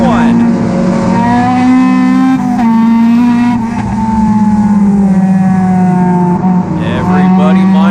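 Race cars roar together at the start of a NASCAR Division III enduro, a loud sustained engine drone with shifting harmonic pitch as the field accelerates past, continuous throughout with no breaks.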